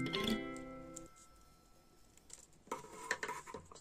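Scissors snip through folded paper to cut a leaf shape for a children's Thanksgiving tree craft. A brief tonal sound opens, then after a quiet gap come several crisp, close, irregular cuts.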